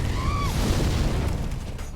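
Flame Vent prosthetic in the Sekiro action game: a loud, low whooshing fire blast that roars densely and steadily for two seconds, with a brief high whistling tone at the start.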